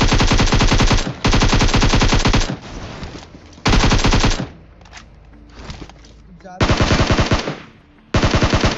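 Rapid automatic gunfire from a battle royale video game comes in several loud bursts separated by short pauses and quieter stretches, with a voice talking in between.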